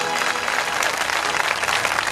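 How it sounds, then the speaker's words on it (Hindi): Audience at a Bhagavat katha religious gathering applauding devotees from Tatina, a steady, dense burst of clapping from a large crowd filling the space. "एक बार ततीना वालों के लिए जोरदार तालियों से भी"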